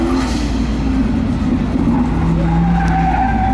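Car tires skid and squeal over a continuous engine roar during an autocross competition at the CarCraft Summer Nationals, loud and sustained throughout with wavering pitch.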